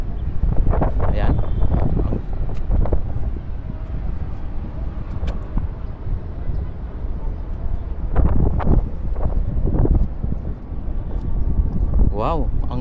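Wind gusts buffet the microphone at a golf course viewpoint, a steady loud rushing roar lasting throughout, with a voice speaking over it in places.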